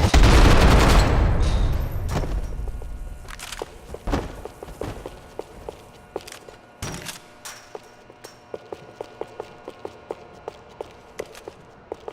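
Gunfire from a police station shootout in the video game Max Payne 3: a dense, loud volley of shots at the start, then scattered single gunshots and short bursts amid footsteps, with the shots spaced out and continuing to the end.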